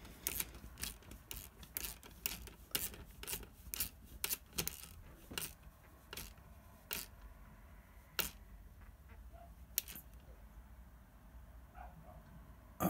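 A spanner tightening a bolt on a folding kickstand fitted to a Brompton bicycle, a series of sharp metallic clicks and ratcheting ticks, close and quiet, irregular and thinning out toward the end, with no talk.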